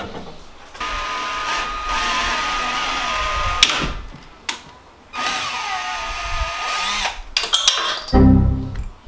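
A power drill bores into a thread hole in a Nissan 240SX valve cover for a Helicoil thread insert, several close, loud whirring bursts broken by short pauses and clicks.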